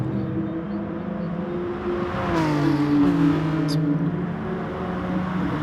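Racing cars, a GTR and a Genesis at Interlagos in a racing video game, rev and whine with engine pitch rising and falling as they shift and pass, moderately loud and steady, with no talking.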